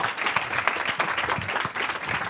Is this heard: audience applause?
yes